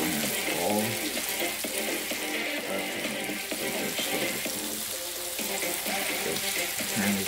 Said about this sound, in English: I'm washing my hands all